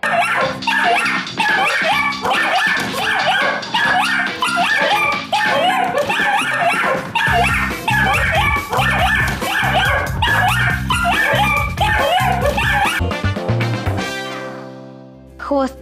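Small dogs barking, yipping and whimpering over a busy, loud music bed throughout, with the mix ending in a sustained tone.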